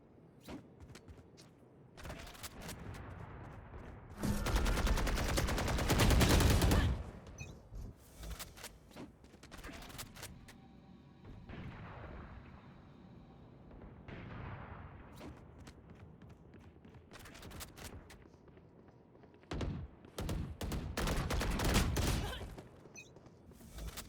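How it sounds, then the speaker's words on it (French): Video game gunfire comes in loud rapid bursts, one long spray early on and shorter volleys later, separated by quieter stretches with scattered clicks. "Pourquoi des rafales sans bouger?"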